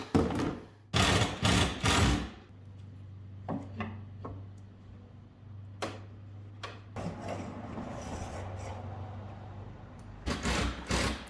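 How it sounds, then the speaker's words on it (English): Screws being driven into wall studs while installing a cat door and pet cage, with short loud bursts of drill whir and rattling between quieter stretches of a low steady hum and scattered knocks. "I'm screwing into the stud that we already located and then finding one further to the right and screwing there as well"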